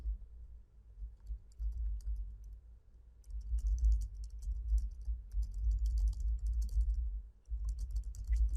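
Someone types HTML on a computer keyboard, a close, quiet run of rapid key clicks in bursts with a short pause partway through, over a soft low hum.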